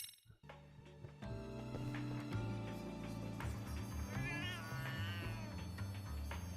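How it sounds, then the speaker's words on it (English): A cat meows in the video game Lost Judgment: The Kaito Files, a short wavering cry heard clearly over continuous game music. "Hello, cute cat."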